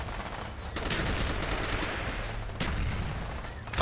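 Rapid automatic Uzi fire in the video game Call of Duty Black Ops, with dense, sustained bursts of shots that pause briefly and then resume. The fire is loud and close throughout.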